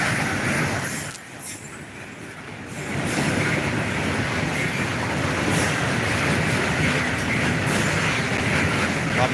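A long freight train hauling coal wagons rolls steadily past close by, a continuous loud rumble and clatter of wheels on rail that builds and holds throughout, with no talking.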